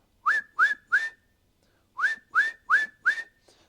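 Seven sharp rising whistle blasts from a dogman signalling a crane operator to boom down, sounded in two quick groups of three and four, loud and clear with no talk.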